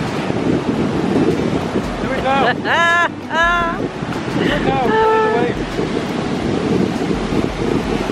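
Ocean waves washing onto a beach on the bay near Cape Town, a loud, continuous surf roar mixed with heavy wind noise on the microphone while people talk and shout over it.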